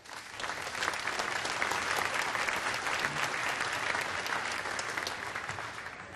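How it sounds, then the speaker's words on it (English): A large crowd at the Fancy Farm 2017 political picnic claps steadily and loudly, sustained applause filling the space without a break. "Let's give them another round of applause,"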